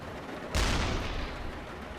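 A single heavy boom from a U-boat's deck gun in the submarine game UBOAT, loud and close with a deep low-end thump, then a decaying rumble over steady sea and ambient noise.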